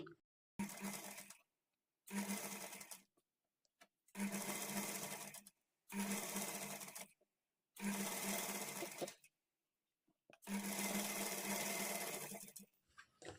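Close up, a sewing machine runs in six bursts of stitching as blouse sleeves are attached. Each run lasts about a second with short silent pauses between them, and the final burst is the longest.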